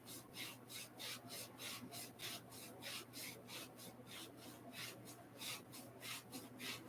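Hands rub over the sternum in a steady back-and-forth rhythm during qigong self-massage, a close, soft, dry swishing with no talk.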